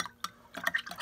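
A spoon stirs homemade nickel plating solution made with table salt, giving a quick series of light, irregular clicks and taps against the container, close and fairly quiet.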